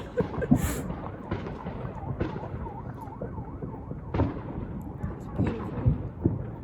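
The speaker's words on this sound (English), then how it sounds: "There goes the sirens too." A distant siren wails in rising and falling tones beneath rumbling booms and scattered background noise.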